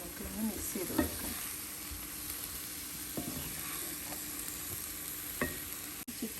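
Chicken coated in masala sizzles in a frying pan while a utensil stirs and scrapes through it, soft clinks and scrapes over a steady frying hiss, quiet and close.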